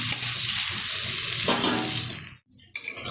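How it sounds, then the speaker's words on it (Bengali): Washed potatoes fry in oil over high heat for a chicken curry, with a loud, dense, continuous sizzle that drops out briefly near the end before resuming. "এটা হাই আছে, সুন্দরভাবে ভেজে নেবো আলুগুলো।"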